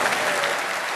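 A conference hall audience claps densely and loudly after Prime Minister Liz Truss's Conservative Party conference speech, a brief steady wash of applause.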